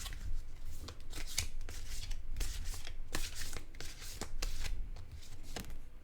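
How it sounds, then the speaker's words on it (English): Tarot cards are shuffled by hand in quick, crisp riffling bursts, close and fairly quiet, repeating steadily with no talking. "I really enjoy this process of shuffling"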